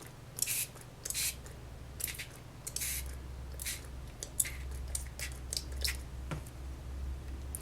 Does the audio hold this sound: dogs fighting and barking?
no